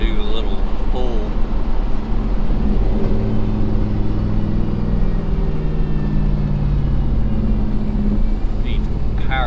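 A Chevrolet S-10 pickup with a swapped 5.3 LS V8, in need of a tune-up and low on power steering fluid, rumbles loudly and steadily as it pulls away, with a deep engine drone throughout and some voice-like noise mixed in.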